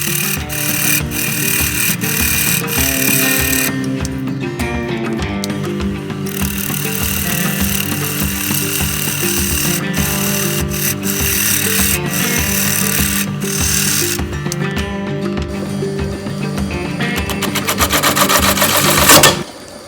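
Woodturning lathe spinning a chunk of box elder on a faceplate while a chisel cuts, giving a loud continuous whirring drone with rhythmic scraping and chattering that carries on without a break.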